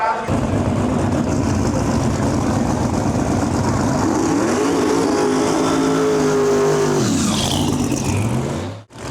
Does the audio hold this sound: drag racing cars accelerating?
yes